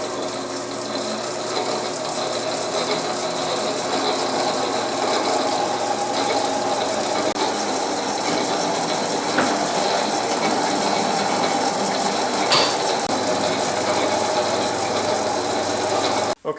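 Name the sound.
Yates American B244 planer drivetrain running in high gear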